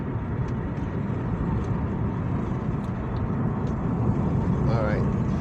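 A 2006 Acura TL with a six-speed manual gearbox cruises, with a steady broadband engine and road drone holding throughout and a slight rise toward the end, heard from inside the car.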